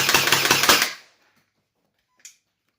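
A BK-2S AEG Nerf blaster from m416 fires a full magazine in a rapid, steady burst of close, loud mechanical shots lasting about a second, then silence except for one brief faint click.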